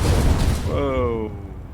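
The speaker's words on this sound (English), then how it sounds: "It blew up. It blew me up when it blew up." A loud, rumbling blast from an explosion in the Space Engineers video game fills the opening moment, then fades into a lower roar as a voice cuts in over it.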